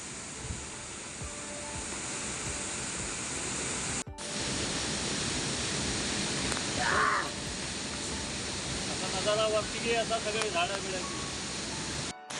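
Water crashing forcefully down a waterfall in the Konkan countryside, a dense continuous roar filling the scene from start to end, with a brief crow call and distant voices faintly over it.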